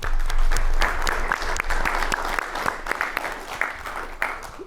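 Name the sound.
audience applause at a pitch contest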